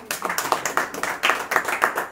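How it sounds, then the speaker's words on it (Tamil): A worship congregation claps hands together in a lively, rhythmic beat, sharp repeated claps coming at a regular pulse and sounding close and energetic with little talk. "கைத்தட்டி ஆண்டவரை மகிமைப்படுத்துவோம்."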